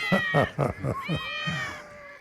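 A pet cat meows several times in quick succession, short close calls followed by a longer drawn-out meow, fairly faint and clear of talk.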